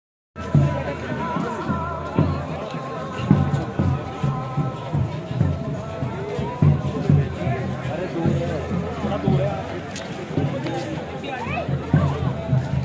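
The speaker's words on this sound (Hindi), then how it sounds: "गाइस, काफी भीड़ है अभी।" A dense crowd of pilgrims at Kedarnath temple, a steady murmur of many voices with shuffling and bustle, close and continuous throughout, occasional louder calls rising out of the babble.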